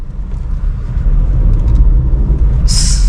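A car pulls away in first gear after the clutch is let out, giving a loud, low, steady engine and road rumble from inside the cabin that swells slightly, ending in a brief bright hiss.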